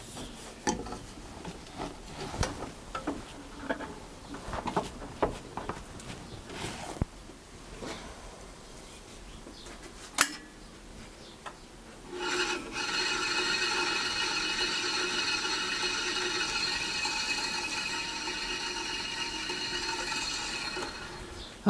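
A workshop machine motor, probably a saw given the blade, whirs to life about halfway through after some shuffling and clunks. Then it runs in a steady, even, fairly loud hum with a high whine on top.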